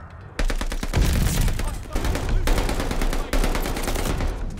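Rapid automatic gunfire from the video game Call of Duty Vanguard comes in loud sustained bursts with short breaks between them. Dense, continuous rattling shots fill the whole stretch, and a player's voice is faintly mixed in.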